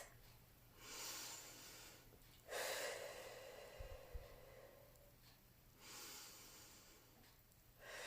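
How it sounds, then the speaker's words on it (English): Three deep breaths taken slowly in a calm, guided relaxation session: long, airy inhales and exhales, close to the microphone, quiet and unhurried, with a soft low thump midway. "take 3 deep breaths"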